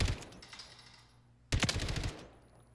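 Jack Scimitar automatic rifle fired from a Horus in a video game, two rapid bursts of gunfire, the first fading out and the second starting loud after a short pause, with no voices.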